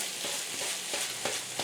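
Corned beef frying in a pan with a steady close sizzle while a utensil stirs it, giving several soft scraping knocks over the continuous hiss.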